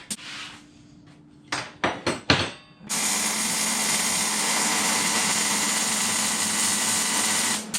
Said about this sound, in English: So we're gonna make one continuous weld, not too hot, but enough to hold this in place.